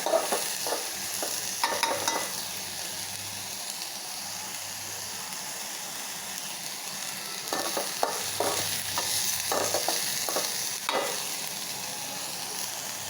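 Nigella seeds dry-roasting in a pan in a home kitchen: soft continuous sizzle and hiss with intermittent scraping stirs of a spatula, fairly quiet and close, with no talking.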